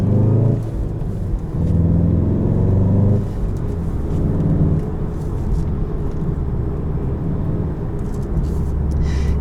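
A 2017 Volkswagen Golf R with a manual gearbox heard from inside while driving, a steady low engine drone with rising revs that drop at a gear change, then a continuous road rumble.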